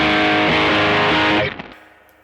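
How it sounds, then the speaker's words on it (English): Electric guitar through a distortion pedal set to a ratty, gritty tone, playing loud chopped chords for over a second before the sound cuts off and decays into near silence. "very ratty distortion"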